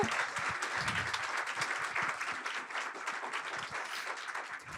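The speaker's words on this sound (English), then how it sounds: "can we give a big round of applause to Beta NYC and Noel and his team?" Auditorium audience applauding at the opening session of NYC School of Data 2026, a dense, steady wash of many hands clapping that carries on for about five seconds.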